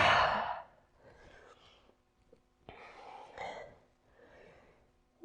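A strong exhale breathed out through the mouth during a home yoga break for desk workers, starting loud and close, then trailing into softer breaths and small throat sounds with no talking.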